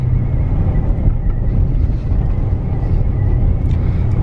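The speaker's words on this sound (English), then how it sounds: "The flyby sounds freaking sweet." A Ram 1500 with a Flowmaster American Thunder cat-back exhaust gives a loud, deep, rumbling drone that holds steady and close throughout.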